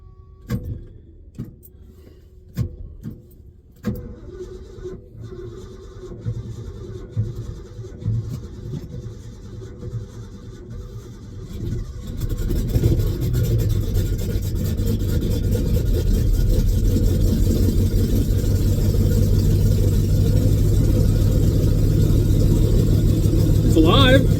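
A cold 1984 Ford F250 pickup engine cranks in short bursts, then catches and settles into a loud, steady idle that runs to the end, with a voice speaking briefly before it starts.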